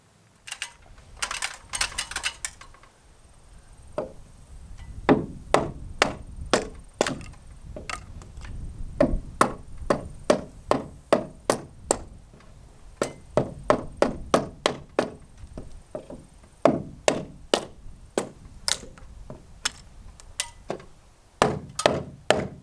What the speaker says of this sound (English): take a chisel and chisel it out